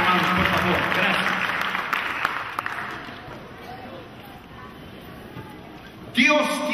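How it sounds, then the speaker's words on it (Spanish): A church congregation applauds, dense clapping that fades gradually over several seconds, with voices mixed in and a louder tonal sound at the end. "Denle un aplauso al Señor Jesucristo."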